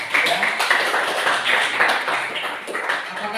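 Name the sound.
classroom applause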